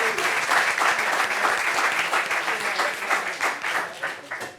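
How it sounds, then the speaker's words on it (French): An audience clapping at a family reunion gathering, a full burst of applause that gradually thins and fades toward the end, fairly close and unaccompanied by speech. "Applaudissements."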